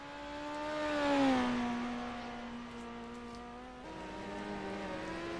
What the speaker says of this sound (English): Now they start to wind these cars up.